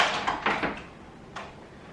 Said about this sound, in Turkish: Kapı ne kadar şey korkutucu açılıyormuş